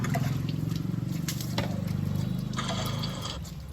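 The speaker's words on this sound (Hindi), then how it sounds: "गर्म पानी से नहा रही हो?" Warm water splashing and pouring steadily over a small pet dog during a bath in a tub, continuous rushing water with a few drips and clatters.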